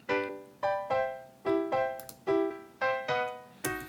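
A slightly overdriven electric guitar through a semi-clean tweed amp simulation, playing a rhythmic pattern of chords, each strummed hit ringing with warm, crunchy harmonics before the next, close and clear.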